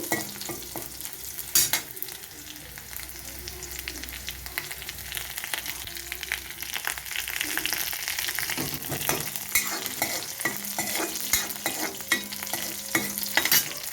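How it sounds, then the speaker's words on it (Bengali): Chopped garlic fries in a pan for a beetroot fry, giving a steady close sizzle with occasional scraping stirs and clicks throughout, and no voices. "এবার রসুনটাকে একটু ভেজে নেব।"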